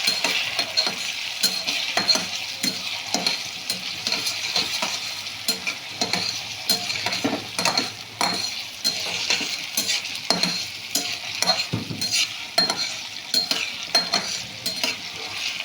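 Chopped onions sizzle steadily in a hot pan while a utensil stirs them in repeated scraping strokes with occasional light clinks, close and alone, with no talking.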